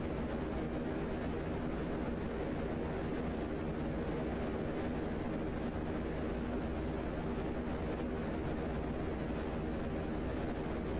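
A steady, even engine drone from a VTOL aircraft flying in GTA Online, a constant broadband rumble with no change in level and no talk.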